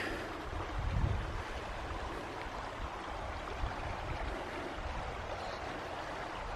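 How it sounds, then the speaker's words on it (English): The Green River flows past a small sandy beach in Utah, a broad continuous wash of water noise mixed with light wind buffeting on the microphone. "This looks like a lake, but it's a river. This is the Green River."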